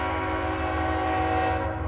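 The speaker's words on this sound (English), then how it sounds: "Oh, train again." A train horn sounds nearby, a loud sustained chord with steady layered tones holding for the whole moment alongside the low rumble of rail cars, heard during a road trip on the way to Flagstaff.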